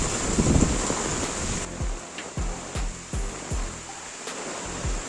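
Heavy rain in Jaffna hisses steadily while gusts of wind buffet the microphone, producing repeated low thumps throughout.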